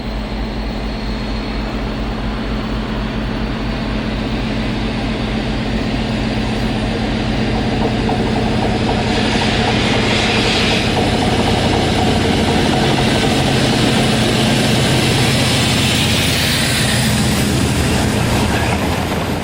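Class 56 diesel locomotive 56047 restarts from Carnforth Loop in 1995 hauling the Warrington to Moss End Enterprise freight, giving a loud, continuous low engine drone that holds steady throughout with no voices.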